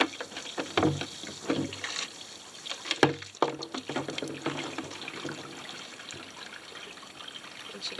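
Fresh water runs from a boat's deck wash hose, trickling and splashing steadily into a pool nearby, with occasional knocks and a few brief voices.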